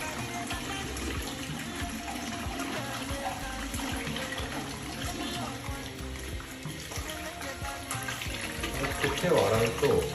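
Tap water runs steadily into a washbasin while hands are washed beneath it at a golf course restroom, a continuous close splashing hiss with a voice talking over it.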